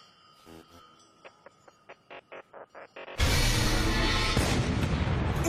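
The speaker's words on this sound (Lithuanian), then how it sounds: "Patrankos? Kodėl tik vienas šūvis?" A single cannon shot in an anime battle scene: a sudden heavy boom with a long rumbling roar that swells and holds, preceded by a short run of rhythmic mechanical clicks.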